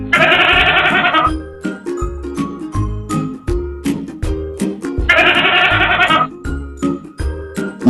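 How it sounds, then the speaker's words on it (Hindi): A cartoon goat bleats loudly in two long, quavering calls, with jingling chimes and rhythmic tinkling music between them, close and clear. "राक्षस ने हवा में से एक बकरी को हाजिर किया"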